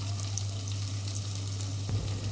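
Shrimp, rice and vegetables sauté in a hot pan with a steady, even sizzle, close and continuous, with a brief stir or clink near the end.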